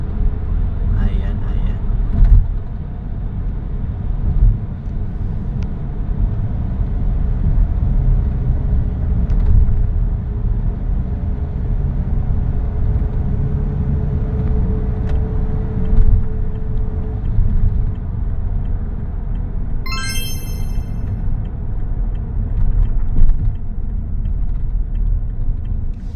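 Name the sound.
road traffic heard from a moving car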